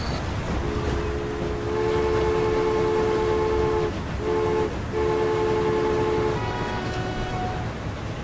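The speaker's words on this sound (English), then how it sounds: "Oh, there's another train leaving." A train pulls out of a station in the Transport Fever game, with steady rumbling running noise and long tonal horn-like notes holding above it, continuous and fairly loud throughout.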